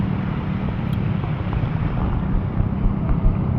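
A speedboat engine drones steadily on open water off Dipolog Boulevard, with wind buffeting the microphone and a constant low rumble throughout.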